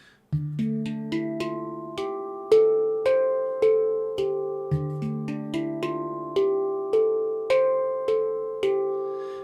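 Bell-like steel tones of a 10-note handpan struck one after another in a steady groove, a low deep ding note anchoring rising and falling melodic hits, each ringing warmly.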